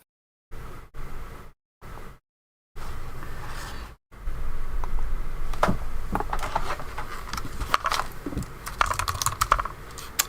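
Typing on a computer keyboard, a few short bursts of key clicks separated by silence, then a sustained stream of rapid, close clicking keystrokes.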